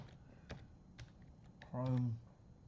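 Keystrokes on a computer keyboard while searching in ChromeOS Flex, a few sparse, fairly quiet taps spaced about half a second apart, with a short voiced sound breaking in partway through.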